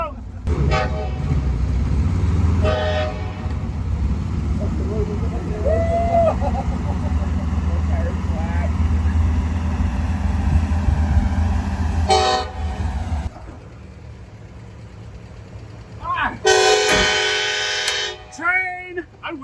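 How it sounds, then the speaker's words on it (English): A loud train rumbles past for most of the clip, with sharp horn blasts sounding twice near the end; voices are heard faintly over the noise, beside an old 1964 Jeep CJ-6. "Train!"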